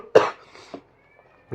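One short, sharp cough from a man at close range, followed by a fainter second burst and quiet room tone.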